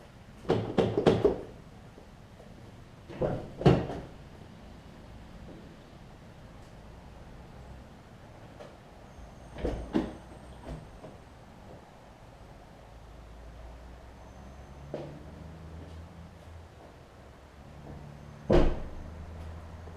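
The door of a 200,000-mile Honda Fit, damaged in a collision with a deer, is worked from inside with several separate clicks and thumps of the latch and panel, spread out over quiet background noise.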